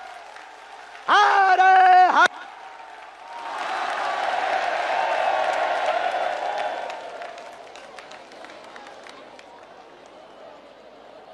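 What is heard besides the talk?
crowd applauding loudly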